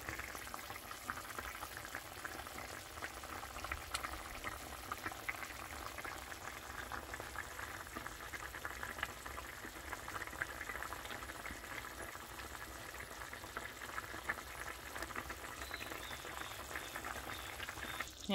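Pork humba sauce with vinegar simmers and reduces in a pot, giving a soft, steady bubbling that stays faint and even throughout, with no talking.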